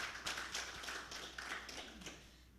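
An audience at a policy and data analytics event claps steadily. The dense patter of many hands is moderately loud, with no talk over it.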